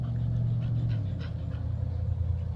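Several dogs panting steadily and close by, a continuous rapid breathy rhythm over a low rumbling background, with no talk.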